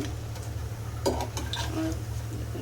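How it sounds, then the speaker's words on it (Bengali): Fried lentil fritters made with khesari dal and ash gourd leaves are lifted from the pan with a few light utensil clinks and scrapes over a faint sizzle and steady low kitchen hum. "এখন আমার বড়া ভাজা শেষ, এখন আমি উঠিয়ে নিব।"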